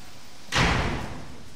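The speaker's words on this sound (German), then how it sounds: "Erstmal die Tür zu machen, genau." A door is shut with a single solid slam, a loud thud that rings briefly before fading into room noise, with no voices.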